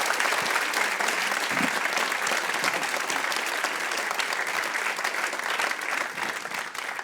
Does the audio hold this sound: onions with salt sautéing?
no